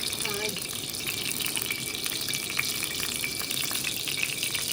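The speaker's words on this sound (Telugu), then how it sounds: "జీలకర్ర తాలింపులు ఇగో ఎండుమిర్చి వేస్తున్నా" Cumin and dried chilies sizzle in hot oil, a steady close-up hiss that continues without a break.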